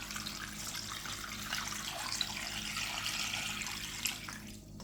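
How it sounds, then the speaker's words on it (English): Water poured steadily over a pigtail in a container to soak, a continuous close hissing splash lasting several seconds without talk. "So I'm adding some water."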